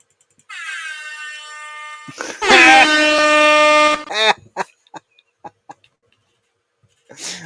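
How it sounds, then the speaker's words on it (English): A novelty air horn sounds in a long, loud, blaring blast that swells into a harsher, louder second stretch lasting a few seconds. Several brief clicks and taps follow, then quiet. "I got my own air horn."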